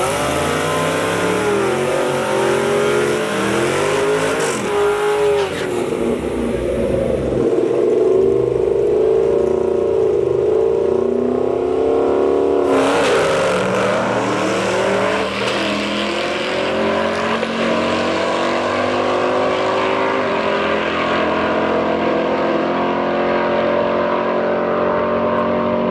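A Cobra race car roars along the track, its engine note sweeping up and then falling away as it passes, loud and steady throughout with no talk.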